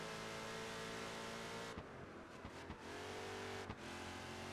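Ferrari race car engines roar in the Project Gotham Racing 4 video game, a loud, steady high-revving drone with brief gear-change dips and a few quick shifts midway, with no voices.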